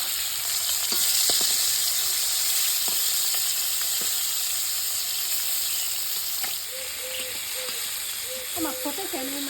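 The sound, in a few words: live fish frying and popping in hot oil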